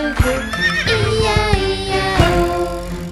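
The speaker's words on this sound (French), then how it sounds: "il y a des centaines de chevaux" Horses neigh as a whinnying sound effect inside a French children's farm song, layered over the bouncy music and sung melody for the whole passage.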